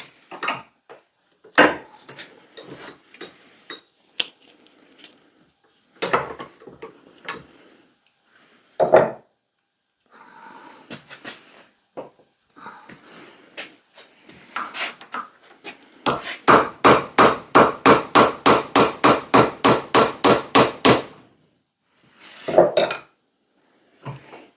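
Hammer blows knock the handle out of a Connecticut pattern axe held in a vise: scattered single strikes, then a fast run of about fifteen even, loud metallic-wooden hits, with a few more knocks after.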